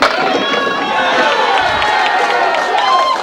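A bowling crowd cheers loudly and continuously after another strike, a dense roar of shouting voices with whistles and calls rising throughout.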